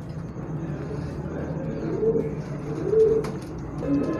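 Soft, low cooing from Rampuri, Surkhy, Ferozpuri and Teddy pigeons, a few short coos rising near the middle and end over a quiet, murmuring indoor background.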